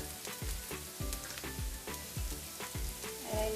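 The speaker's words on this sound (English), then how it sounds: "our onions are fried lightly brown" Onions fry in a pan until lightly browned, a quiet steady sizzle with soft rhythmic scraping from stirring roughly every half second.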